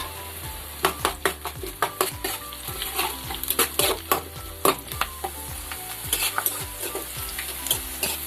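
Curry leaves frying in hot oil, a loud close sizzle with repeated rhythmic stirring scrapes and sputtering crackles throughout, no voices.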